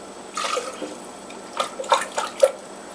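Chicken broth is poured into a blender to rinse out the last of a tomato mixture for albondigas stew, a soft trickle followed by several splashy gurgles and drips close by.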